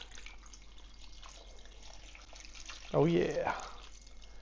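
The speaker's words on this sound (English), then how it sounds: "also throw in 2 cups of beef broth over that." Beef broth poured into a crockpot, a short close splashing pour lasting under a second against a quiet room, with a brief voice at the start.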